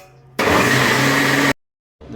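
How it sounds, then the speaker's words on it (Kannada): An electric mixer grinder whirs loudly and steadily for about a second while grinding rice batter with water and rock salt for Mangalore akki rotti, then stops abruptly before starting up again briefly. "ಹಿಟ್ಟು ಈ ಹದಕ್ಕೆ ಬರುವ ತನಕ ರುಬ್ಕೋಬೇಕು"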